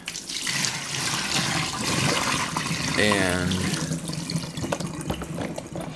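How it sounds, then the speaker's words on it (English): Water poured out of a container where knives had been soaking in a rust-prevention test, a steady close splashing rush over a few seconds with a brief voice underneath. "So I'm actually going to dump the water out right now"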